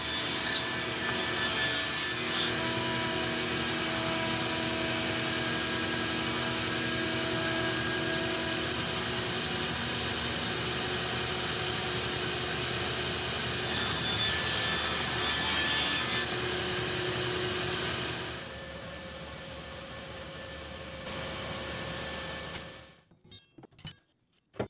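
A bandsaw with its blade tilted to 14 degrees cuts both sides of a wooden dovetail slide, a loud, continuous whirring rasp that holds for about twenty seconds before the motor winds down, with no talking.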